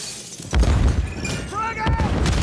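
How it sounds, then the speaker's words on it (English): A Call of Duty frag grenade goes off with heavy booming thuds amid gunfire, close and loud, while players shout over the blasts. "Throwing grenade!"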